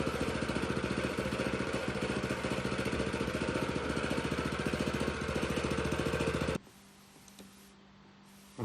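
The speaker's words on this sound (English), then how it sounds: "we're going to do one more pass with the roller compactor just to make sure we've consolidated that sand" A roller compactor runs over porcelain pavers to consolidate polymeric sand. It gives a loud, steady rumbling vibration up close, then cuts off abruptly into quiet near the end.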